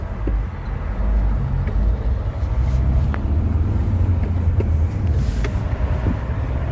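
Dense Moscow road traffic heard from inside a moving car, a steady low rumble of engines and tyres with a few faint higher clanks, continuous and fairly loud throughout.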